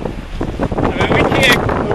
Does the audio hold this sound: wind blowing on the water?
yes